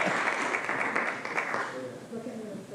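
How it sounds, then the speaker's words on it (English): Applause from the audience at a San Diego County Board of Supervisors meeting, steady dense clapping that fills the room, with voices talking over it as it tapers off near the end. "Applause, come on."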